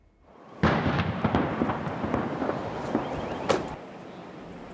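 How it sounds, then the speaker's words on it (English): A burst of heavy roaring noise with several sharp booming pops, one after another, from explosions inside a burning Walmart distribution center, the loudest blast near the end. "you could hear explosions inside the building"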